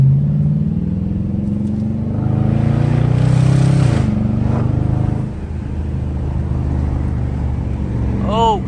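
A Dodge Charger R/T engine drones loudly on a valley drive, the tone rising and easing with the throttle, with a few faint crackles near the end and speech nearby.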